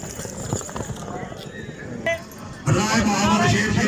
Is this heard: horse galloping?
yes